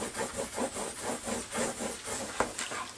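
Rhythmic rubbing strokes as folded paper on a file folder scrapbook album is burnished flat, a steady series of close, soft scraping passes with one sharper tap near the end.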